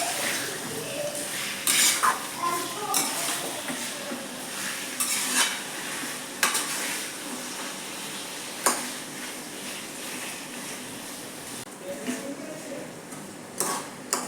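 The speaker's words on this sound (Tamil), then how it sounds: "காடை அப்படியே நல்லா அப்படியே ஃப்ரை பண்ணலாம் ஃப்ரெண்ட்ஸ்." Quail pieces fry in oil in a pan, a moderate sizzle broken by several sharp stirring clatters of a utensil against the pan.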